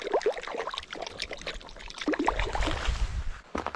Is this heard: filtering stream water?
yes